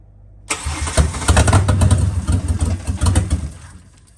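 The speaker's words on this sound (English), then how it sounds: "Alright, we've got ignition, but it's not going to idle." A Ford XR6 turbo Barra engine cranks and catches, running roughly with uneven sputtering pulses for about three seconds before dying away, failing to settle into an idle, loud and close.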